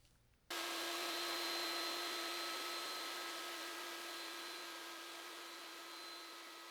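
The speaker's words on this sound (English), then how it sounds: "I'm going to be using a 1/4 inch bit to route the channel." Router fitted with a 1/4 inch bit cutting a purfling channel in a guitar body, starting abruptly and then holding a loud, steady high whine with a constant tone that slowly fades slightly over several seconds.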